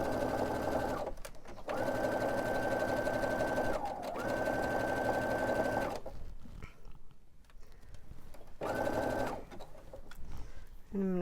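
A Baby Lock Brilliant sewing machine runs zigzag stitches on baby onesie fabric in three bursts, the first two long and the last one shorter, with pauses between them.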